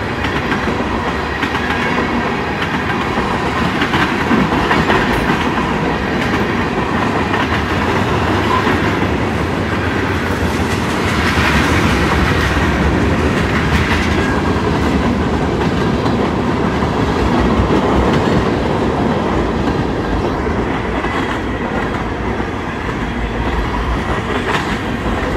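A CSX freight train rolls past close by, a loud continuous rumble of rail cars with rhythmic clickety-clack from the wheels, steady for the whole stretch and without any voices.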